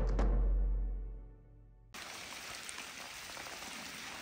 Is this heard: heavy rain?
yes